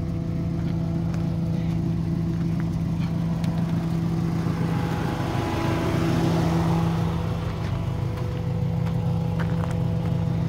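A 1986 Subaru Brat's engine hums and revs at a steady mid pitch off-road, its back wheel slipping on loose rocks, with a slight swell in the middle and no voices.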